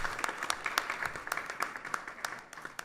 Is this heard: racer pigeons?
no